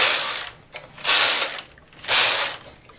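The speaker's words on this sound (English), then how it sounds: "And then I'll knit 3 rows." Domestic knitting machine carriage drawn across the needle bed three times, making three separate loud rattling, ratchet-like sweeps, each about half a second long, with short pauses between them and no talking.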